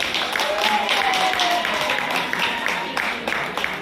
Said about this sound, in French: Donc je vous demande de vous applaudir très fort.